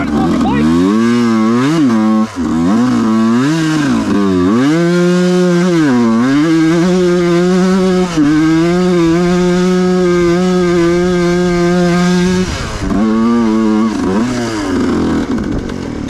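A dirt bike engine revs hard while climbing a hill, its loud buzzing pitch rising and dipping through repeated throttle surges and sustained high revs, close up for about sixteen seconds.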